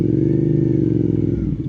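Suzuki SV650 motorcycle with a freshly flashed ECU idles steadily nearby, its low, even engine rumble continuous throughout with a slight shift in tone near the end.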